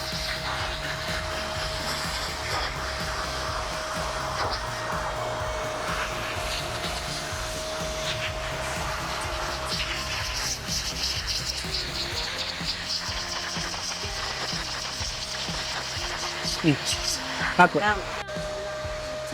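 A blow dryer runs steadily throughout, drying a puppy's fur after its first bath at home, with a constant airy whoosh and a fixed whine, while a person talks now and then and faint handling noises come near the end.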